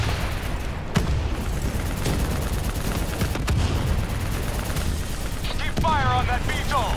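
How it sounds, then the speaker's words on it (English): Rifle fire and bursts crackle through a Call of Duty Black Ops III battle as soldiers fight, steady and dense over rumbling noise, with faint game voices and electronic chirps near the end. "Keep fire on them!"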